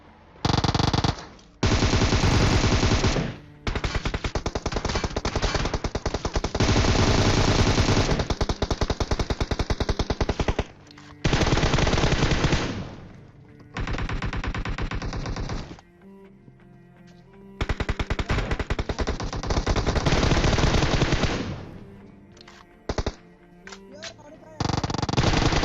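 Bursts of automatic gunfire crackle in long, loud volleys with short pauses during a 1v6 fight in Pochinki in PUBG Mobile, with thuds and impacts between the bursts.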